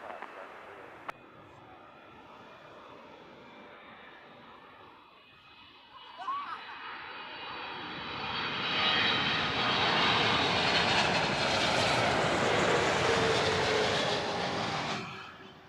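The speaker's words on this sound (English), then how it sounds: "777-300 inbound from Miami." A Boeing 777-300 arriving at Heathrow Airport, its jet engine roar building from a distant whine to a loud, broad rush as it passes overhead, then fading slightly, with speech in the background.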